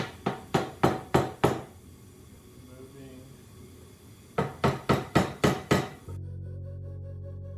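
A seal is tapped into a 5.7L Hemi engine with sharp metallic knocks: five quick evenly spaced taps, a quiet pause, then another run of five, close up, ending in a steady low hum.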